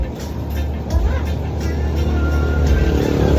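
A brand-new motorcycle tricycle in a Philippine barangay runs its engine with a steady, rough drone that builds slightly, loud and close, with a faint voice in the background.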